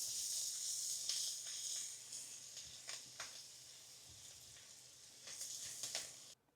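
Potato filling with chopped greens fries in a pan, giving a quiet, constant sizzle broken by crackles and the scrape of stirring before it cuts off.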